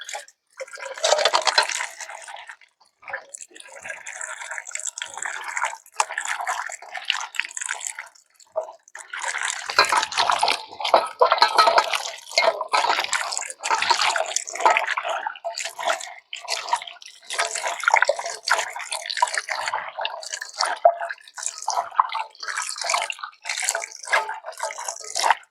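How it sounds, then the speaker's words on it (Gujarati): Sliced potato chips being washed in a bowl of water by hand, with steady sloshing, splashing and trickling that runs almost continuously, close and fairly loud, pausing briefly near the start. "તો આપણે આને જ્યાં સુધી તાજું પાણી ન થાય ને ત્યાં સુધી આપણે આને ધોવાનું છે."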